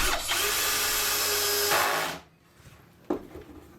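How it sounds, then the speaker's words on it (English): A power drill drives screws into the wooden backboard of a TV transport box, a loud steady whir lasting about two seconds, then a short second burst after a pause. "then we'll run some screws in it to give it some strength"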